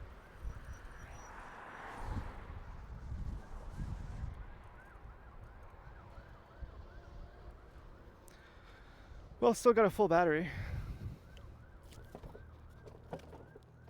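A wailing siren rises and falls in the distance beneath a man's speech as he rides an e-bike, with a brief louder burst of noise partway through.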